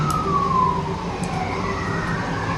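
A police siren wails, sweeping down and back up in pitch, fairly close, over a constant low road rumble during a truck pursuit.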